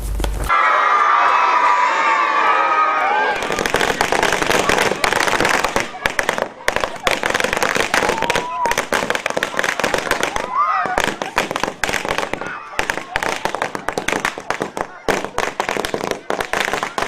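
Firecrackers set off at a village celebration held like a Diwali festival in Banaskantha district, Gujarat: rapid, continuous loud bangs and crackling close by, with a crowd cheering and children shouting throughout.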